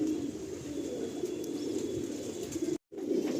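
A low, continuous cooing drone rises from pigeons in a breeding loft in Behala, Kolkata, broken by a brief dropout near the end, with no talk.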